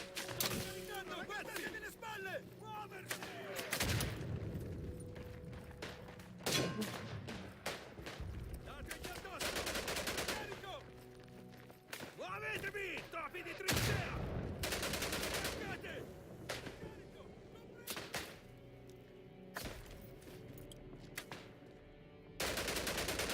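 Machine gun fire in the World War I video game Isonzo, with repeated loud bursts and scattered shots, some near and some distant, across a busy battlefield soundscape.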